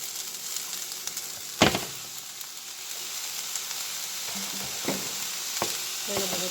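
Ground beef frying in a pan for keto lasagna, a steady close sizzle with a sharp clatter as it lands and a few later knocks and scrapes of stirring, no talk.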